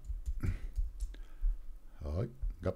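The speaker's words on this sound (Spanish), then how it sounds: "le hacemos aquí doble clic" A computer mouse double-clicks while editing a text label in charting software, the clicks short and light among intermittent talk.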